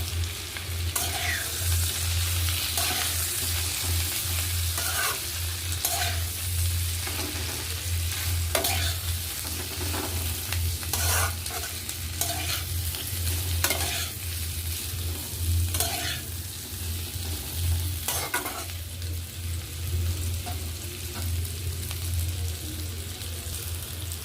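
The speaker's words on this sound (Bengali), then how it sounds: "দেখুন আলুগুলো ভেজে নিয়েছি" Potatoes frying with turmeric powder for alur dum, stirred in a pan: a steady sizzle runs throughout, with repeated scraping strokes of the spoon every second or two, close and fairly loud, with no talking.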